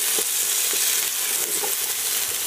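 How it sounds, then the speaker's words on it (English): Leftover chermoula marinade sizzles and crackles steadily in a saucepan over medium heat, a dense, close frying hiss with no voices. "you're just going to add the leftover chamoula marinade into the saucepan. About a medium heat, start sweating it off for a little while."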